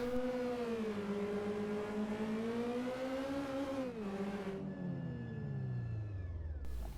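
A 1970s turbocharged race car engine in the Assetto Corsa racing game idles and revs steadily, its loud droning pitch wavering, then dips as a turbo whine and whistle rise and fade.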